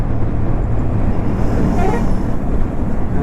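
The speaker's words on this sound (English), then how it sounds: "There is too much traffic today. You see all these buses, trucks, they are filled on this road." Dense expressway traffic of buses and trucks makes a loud, constant low rumble that barely changes, heard close from the road itself, with a faint horn toot in the mix.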